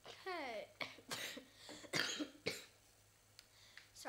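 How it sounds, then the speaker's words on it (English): Several sharp coughs in quick succession, close and fairly loud, with a short vocal sound before them and quiet pauses between. "I have a bit of a cough right now."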